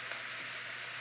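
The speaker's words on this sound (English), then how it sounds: "Here we are, starting to cook them." Chinese eggplant and Italian sausage frying in a pan, a brief, faint, steady sizzle with no other sounds.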